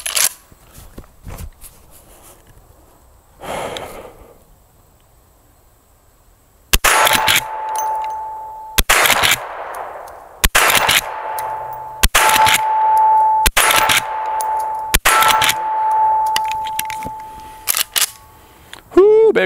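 A Marlin 1894 CST lever-action rifle fires six loud, sharp shots at an outdoor range, each followed by a long ringing decay. The shots come a second or two apart, and metallic lever clacks sound between them.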